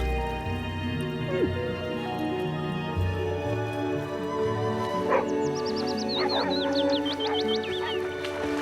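Dogs barking and yipping on a farm, a few short barks heard over a steady bed of background music with birdsong.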